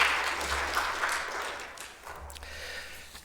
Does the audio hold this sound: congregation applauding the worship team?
yes